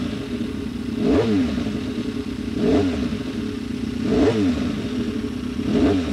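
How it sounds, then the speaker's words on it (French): A 750 cc racing motorcycle with about 160 horsepower on a circuit, engine note rising and falling in four regular swells as it revs and passes, loud against a steady mechanical drone with no voices. "750 cm3, 160 chevaux pour 160 kg, beaucoup plus puissante qu'une moto de route mais plus lourde qu'une machine de Grand Prix"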